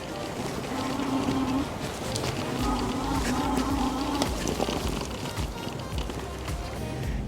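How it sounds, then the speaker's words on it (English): A VTUVIA SX20 Antelope electric bike in motion, with a steady rushing roll of tires and wind over bumpy ground and a faint motor whine rising and falling underneath, continuous and close throughout. "The bike gets up there pretty quick, a lot of torque, feels lightweight."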